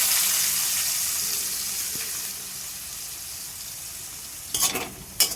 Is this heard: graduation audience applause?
no